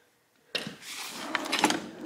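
Drawer full of nails and small hardware in a home workshop sliding open with a sudden clack and a rough, rattling glide, close and alone.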